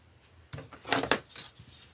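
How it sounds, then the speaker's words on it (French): A paper strip for a 15x15 scrapbooking mini album is cut, giving one brief, crisp, close snipping clatter in a quiet room. "Donc là, on va découper."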